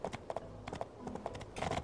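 Rhythmic clip-clop of horse hooves in the video game My Time At Portia, a quick trotting pattern of sharp knocks at moderate distance, faint and steady with no voices.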